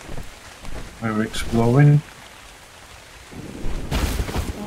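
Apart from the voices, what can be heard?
rain and thunder in a video game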